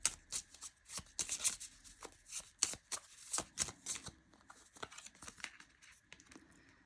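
Affirmation cards for a tarot reading are shuffled close up, a rapid run of crisp papery riffles and flutters with short pauses between bursts, quiet and without any talk.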